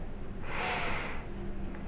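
One close, steady inhaling sniff of an odor test pen in a smell sensitivity trial, rising then tapering off, alone without speech.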